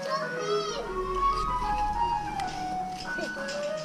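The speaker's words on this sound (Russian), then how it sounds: "слышите, музыку? Машина с мороженым ездит по району." An ice cream truck plays its jingle while driving through a residential neighborhood. The tinkling melody is steady and moderately distant over a few seconds, with faint children's voices in the background.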